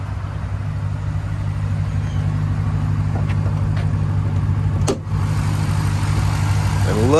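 A 2021 Dodge Durango SRT Hellcat's 6.2 liter supercharged V8 idles with the hood open. It makes a steady, loud, deep rumble with a brief dip and a small click midway, heard up close.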